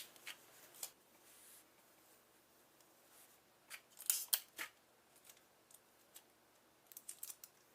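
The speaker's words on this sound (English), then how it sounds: "You can add a few pieces of tape if you want, and I think I will, just to help hold it in place." Pieces of tape being pulled, torn and pressed onto a guitar-shaped diaper cake, a quiet series of sharp crackling rips and snips in short scattered bursts with soft handling noise between.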